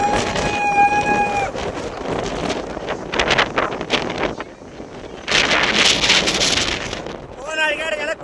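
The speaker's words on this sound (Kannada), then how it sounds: "ಆ ನಮ್ನಿ ಗಾಳಿ ಐತಿ" Strong wind buffets the microphone in loud gusting roars on an open hillside at Kappatagudda, the blasts rising and falling, with people talking and a short tonal sound near the start and end.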